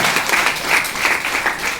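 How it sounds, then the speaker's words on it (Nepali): An audience applauds at a public event, a steady dense patter of many hands clapping continuously at moderate loudness throughout. "खोइ ताली बजाएको अवसरमा है त।"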